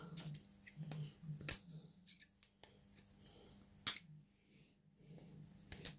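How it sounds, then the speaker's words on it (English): Side cutters snip the tabs off power tool battery cells in sharp, isolated clicks, three loud snips spaced a couple of seconds apart with small handling taps and a low hum in between. "Get your side cutters. Rip. Rip them strips off."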